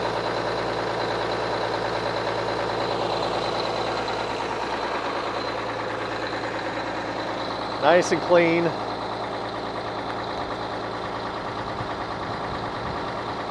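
A bus engine idles steadily after a cold startup, with a constant low rumble and exhaust drone running throughout; a person speaks briefly partway through.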